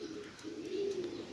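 Top-class KTM pigeons coo in a soft, low, warbling run, close by and alone with no talk.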